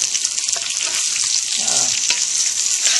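Meat sizzles and fries steadily in a wok for Cajun jambalaya, a dense, close crackle with faint scraping of stirring throughout.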